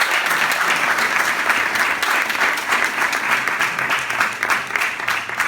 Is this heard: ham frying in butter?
no